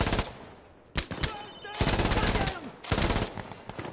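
An MG42 machine gun fires in the Insurgency video game: loud, rapid sustained bursts of automatic fire broken by short pauses, close and dominant, with a few scattered shots in between.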